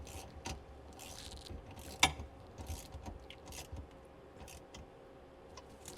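Quick ratcheting clicks as a wrench snugs down a bolt on a jet ski's KP stainless steel exhaust kit, with scattered metallic ticks and one sharp clack amid a quiet background.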